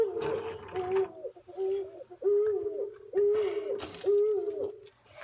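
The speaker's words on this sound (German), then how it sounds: "Erstmal der Uhu, wie man hören kann." An eagle owl hoots repeatedly from a Brio Magic Tunnel toy, deep evenly spaced calls about once a second, fairly close, against a quiet background.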